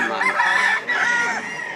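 A gamecock crows up close, one loud, drawn-out call that breaks briefly and then trails off.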